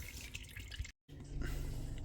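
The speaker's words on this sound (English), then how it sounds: "So we'll just let that drip off again until we drop the valve body." Transmission oil from a Ford with a lead frame fault drips steadily from the area where the valve body is being removed, a faint, quiet trickle with a brief gap partway through.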